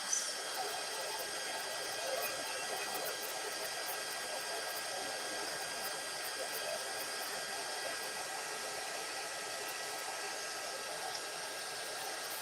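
A heat embossing tool blows hot air steadily, a soft continuous fan-like whoosh that stays level and fairly quiet throughout, with no talking over it.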